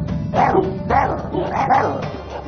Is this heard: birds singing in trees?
no